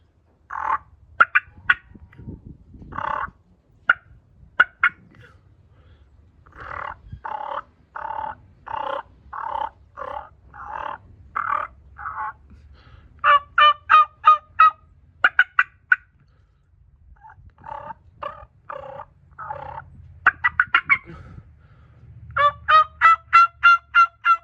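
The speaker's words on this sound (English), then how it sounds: "But it would just kind of purr and then cluck once or twice." Wild turkeys give soft, rolling purrs broken by sharp single and double clucks, in steady bursts with short pauses, fairly close and clear against a quiet outdoor background, with no voices.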